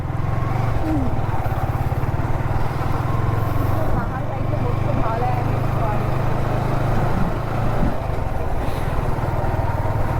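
Yamaha R15 motorcycle ridden as a Rapido bike taxi, a steady close engine drone with road and wind noise while people talk throughout.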